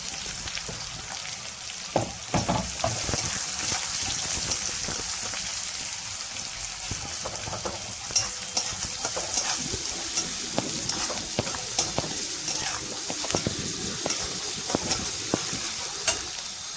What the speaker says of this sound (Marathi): जो कांदा आपण बारीक चिरलेला आहे तो लगेच टाकून घ्यायचा